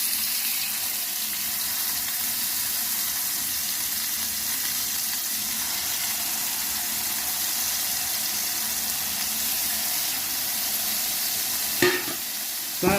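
Steak sizzles steadily in a hot frying pan, a loud continuous hiss and crackle, with a couple of sharp clanks near the end.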